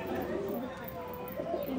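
A pigeon coos softly in a short, low burst, faint and close-ish, with a little background murmur around it.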